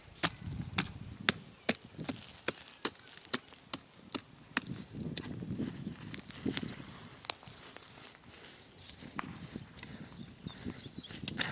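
An axe chops repeatedly into hard ground while a pit is dug, giving sharp, evenly spaced thuds about twice a second. The strokes are moderately close, with a thinner patch of chopping in the later part.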